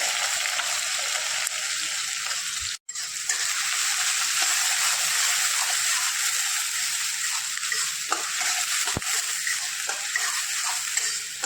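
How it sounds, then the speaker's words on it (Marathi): Chopped onion and cumin seeds frying in hot oil for masala rice, a loud, dense, continuous sizzle with faint scraping stirs and one brief break, close up with no talking. "आपल्याला हा कांदा चांगला परतून घ्यायचा आहे."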